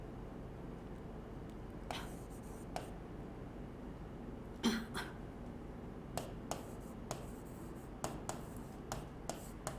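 Writing during a Hindi lesson comes through as sparse, faint taps and short scratches at irregular intervals, with one louder cluster midway, over a quiet room hum.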